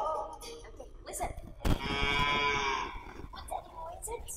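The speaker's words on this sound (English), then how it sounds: "It's a cow." Cow mooing in a children's animal-sound game, one long, loud, drawn-out low moo in the middle, with a person talking before and after it.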